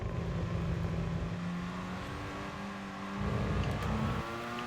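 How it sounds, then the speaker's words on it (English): A rotary-engined race car in Gran Turismo Sport drones at high revs, a buzzy whir that holds steady, dips briefly and climbs again, loud and close throughout. "they both got a rotary engine, so they must sound exactly the same"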